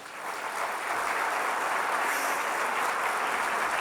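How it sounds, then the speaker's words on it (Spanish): A church congregation applauds, a dense, continuous hiss of many hands clapping together that swells quickly and holds steady. "Denle un aplauso al Señor."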